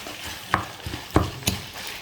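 Minced beef fries in a pan with a steady sizzle as a utensil stirs it, scraping a few times in sharp close bursts.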